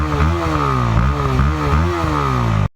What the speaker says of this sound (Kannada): ಇನ್ನು ಈ ಗಾಡಿ ಹುಸ್ಕ್ವರ್ನಾ ಸ್ಪರ್ಟ್ಪಿಲಿನ್ 250 ಅಂತ.